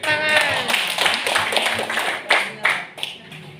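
An audience of teachers claps at a training presentation, a dense burst of hand claps that quickly fades, with a voice talking over the start.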